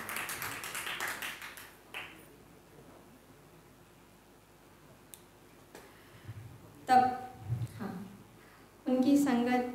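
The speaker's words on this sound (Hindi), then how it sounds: "जोरदार तालियां श्री अनिकेत तारेड़ेकर जी को दें।" Audience applause for violinist Aniket Taredekar at an honoring ceremony and music tribute gathering: a dense burst of clapping that fades over the first two seconds, then quiet, with a voice speaking near the end.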